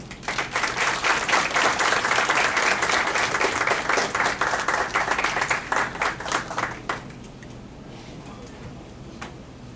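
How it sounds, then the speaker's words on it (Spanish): An audience applauds a speaker at an evening lecture on Japanese immigration in Peru, a full, dense round of clapping that holds steady for several seconds before thinning out and fading. "Aplausos al ponente"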